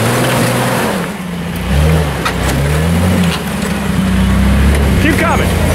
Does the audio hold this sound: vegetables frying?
no